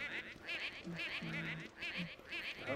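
Shy Guy enemies in the Luigi's Mansion video game give repeated honking, goose-like calls in short bursts over a steady game background.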